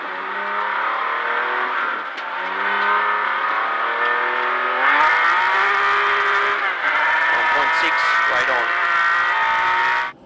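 A rally car, car 1, sets off on a stage of the 2015 Alpine Rally of East Gippsland in bush country, its engine climbing and shifting through gears as it pulls away, loud and near, under a narrator's voice.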